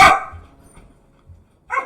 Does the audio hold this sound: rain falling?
no